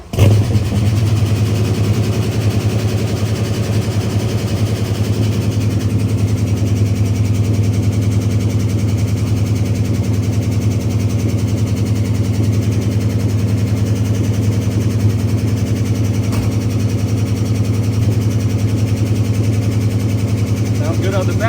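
A 1970 Dodge Charger's engine catches on its first startup and settles into a loud, steady, rumbling idle with a faint light lifter tick, running continuously close by.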